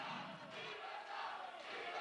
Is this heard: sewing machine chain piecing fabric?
no